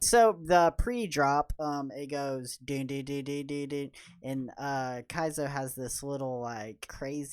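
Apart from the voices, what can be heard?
None of the usual background noises is heard.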